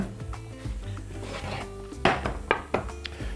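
Spiral pasta and beef in sauce are carefully turned over in a pan, giving close, wet scraping and rubbing strokes with a few sharper knocks of the utensil against the pan, and no voices.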